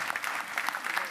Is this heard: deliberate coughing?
no